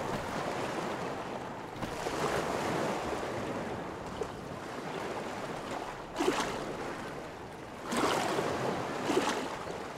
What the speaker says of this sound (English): Hopefully you hear me walking through the water here.